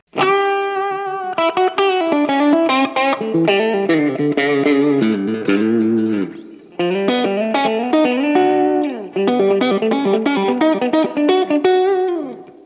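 Ibanez RG421AHM electric guitar with overdrive plays a melodic run of sustained, slightly distorted notes with effects, loud and close, pausing briefly twice.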